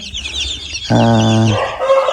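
Chickens in a farmyard give a loud, close rooster-like call over softer background clucking and chirping from the flock.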